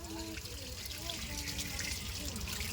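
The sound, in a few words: washing with running water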